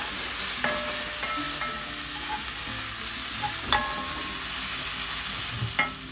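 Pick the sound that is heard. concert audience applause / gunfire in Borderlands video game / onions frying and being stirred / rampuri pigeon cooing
onions frying and being stirred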